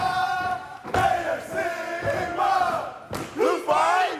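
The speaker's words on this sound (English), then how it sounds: "who are these guys doing all the yelling and cheering for you today?" A group of fraternity brothers in a game-show studio audience yells and cheers in loud, ragged bursts of shouting voices.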